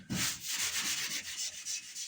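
Scotch-Brite pad scuffing a painted surface ahead of fiberglass work: a soft, steady rhythmic rubbing with quick back-and-forth strokes, close but faint, with no voices.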